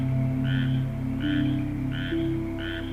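Small electric-blue frog in a tropical forest croaks in four evenly spaced, short nasal calls, clear and fairly near over a steady humming background.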